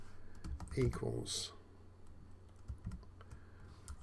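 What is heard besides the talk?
typing on a computer keyboard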